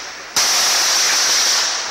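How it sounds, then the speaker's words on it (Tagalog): Gunfire during a clash between soldiers and Abu Sayyaf fighters: one sharp, loud report, then a sustained harsh hiss that slowly fades. "Sinasalubong sila ng putok ng mga kalaban."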